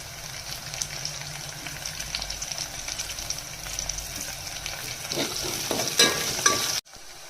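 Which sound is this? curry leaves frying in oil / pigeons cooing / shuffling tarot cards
curry leaves frying in oil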